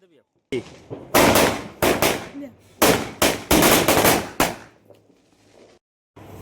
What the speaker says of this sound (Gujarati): જોઈએ કેવા ફૂટે ફટાકડા એના હવાઈ ગયા તો નહીં ફૂટે નકર ફૂટશે